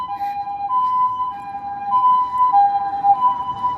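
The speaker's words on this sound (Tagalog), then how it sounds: "May ambulansya." An ambulance siren wails on a street in Japan, a clear two-tone pattern repeating steadily at moderate distance with faint background hum.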